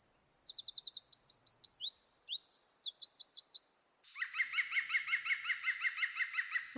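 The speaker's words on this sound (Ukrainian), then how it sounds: "це зяблик, точно." A chaffinch sings clear, rapid descending trills in two close, loud phrases, then a denser burst of repeated chirping continues from a bird nearby, with no talking.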